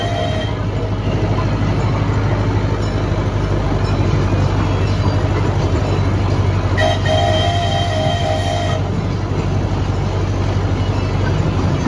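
A miniature railway train at Paultons Park rumbles along steadily with a constant mechanical drone, and a short whistle toots briefly partway through.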